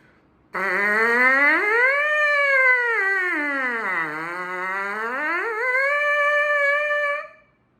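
A lone trumpet mouthpiece buzz slides up, then sweeps down low and climbs back again in a continuous siren-like glide, loud and close for about seven seconds.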